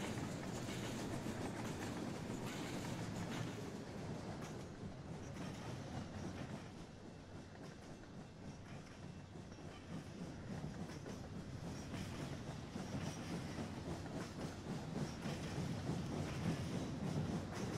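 A model train in the video game Rolling Line rolls toward a station and slows, a steady rumbling clatter of wheels on track throughout, close and continuous with a faint squeal.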